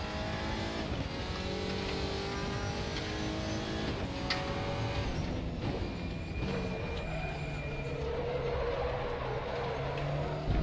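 The Audi RS 3 LMS touring race car's engine in the RaceRoom Racing Experience sim, a continuous droning roar that rises and falls with throttle and gear changes, steady and fairly loud throughout.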